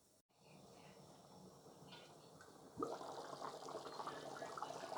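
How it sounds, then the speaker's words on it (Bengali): Chickpea lentil curry simmering in a pan, a steady soft bubbling and hissing that swells louder partway through, close and continuous with no talk. "তরকারিতে জাল উঠে গিয়েছে।"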